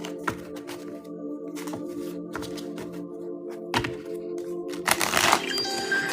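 Tarot cards being shuffled by hand at close range, producing quiet, irregular riffling clicks and snaps in short bursts, with a louder flurry near the end.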